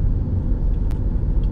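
A car on a city road under acceleration, the driver pressing the gas pedal to go straight; a steady, loud low engine rumble with road noise, continuous throughout.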